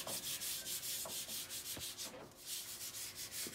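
Hand sanding a wooden picture frame with the grain: steady, quiet rhythmic scratching strokes back and forth, about three per second, close to the microphone with no talking.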